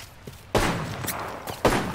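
Apex Legends gunfire comes in two loud, close bursts, each a short volley of sharp cracks with a quieter thump between them.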